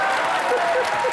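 Studio audience at a comedy show clapping for a film star's arrival: a brief burst of dense, steady applause with faint voices mixed in.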